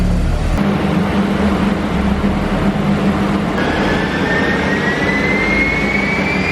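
An Audi TT, running front-wheel drive with its Haldex fuse removed, roars steadily on a dyno, a loud continuous engine and roller drone with a rising whine emerging partway through, no talk.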